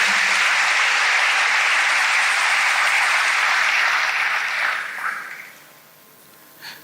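A church congregation applauding loudly and steadily in a big wave of clapping that fades out toward the end, with no talk over it.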